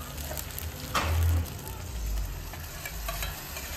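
Onions frying in a pan on a home stove, giving a continuous close sizzle with a brief louder hiss near the start, then a steady crackle throughout.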